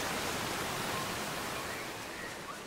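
A waterfall in the video game Uncharted: Drake's Fortune gives a steady, full rushing roar of falling water that holds even and close, easing slightly toward the end.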